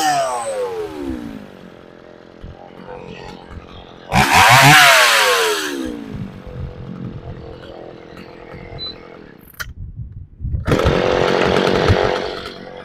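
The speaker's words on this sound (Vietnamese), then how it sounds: "em sẽ cưa thử cho các bác xem trải nghiệm con máy nhé" A Shindaiwa 415 chainsaw with a bar over 40 mm revs and cuts into wood, loud bursts of high-pitched engine whine rising and falling between idle stretches, close to the microphone.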